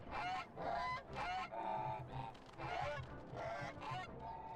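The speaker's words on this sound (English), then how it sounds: "They sound like geese!" Goose-like creatures in Final Fantasy 14 honk repeatedly in loud, raspy bursts, a whole flock calling in irregular overlapping rhythm with no speech.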